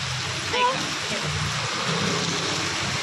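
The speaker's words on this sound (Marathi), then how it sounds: "पाऊस आला आता" Steady rain hisses continuously close by with a dense, even texture, and a voice is faintly audible beneath it.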